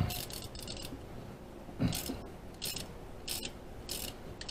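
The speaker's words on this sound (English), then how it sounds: "I'm using a 10 swivel socket, 10 millimeter swivel socket on these lifters." Quick bursts of ratcheting clicks from a 10 mm swivel socket ratchet turning on engine lifters, several short rhythmic runs with brief pauses and a soft metallic clunk between them, close and fairly quiet.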